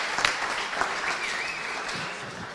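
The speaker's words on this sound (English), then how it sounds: "please give yourselves a round of applause for enduring this." An audience at a live panel discussion on restoring trust in Michigan's government claps in a fairly faint, continuous patter of applause heard from some distance.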